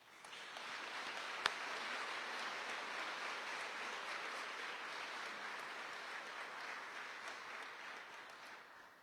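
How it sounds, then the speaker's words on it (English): A ceremony audience gives a final round of applause honoring the 24th Infantry Regiment, a faint, distant, even wash of many hands clapping that holds steady and fades at the end. "Please give a final round of applause for their dedication and tireless efforts"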